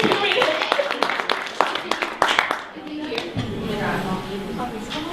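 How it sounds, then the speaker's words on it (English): A small group claps for a girl about to read aloud, a scatter of hand claps for a couple of seconds that thins out as talking takes over. "Give her a round of applause."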